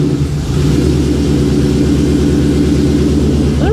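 A 1957 Chevy engine idles steadily close by, a loud continuous low rumble with a faint repetitive tick layered in, heard alone throughout.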